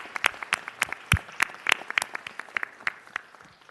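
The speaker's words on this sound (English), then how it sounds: "Let's give them all another round of applause." A city council chamber fills with scattered, lively applause, individual claps sharp and distinct in a steady patter for a few seconds, with no talking over it.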